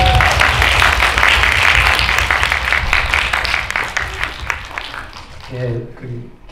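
An audience claps at a film screening Q&A in a Korean cinema, a brisk, fairly loud burst of applause that thins out near the end as a voice begins speaking.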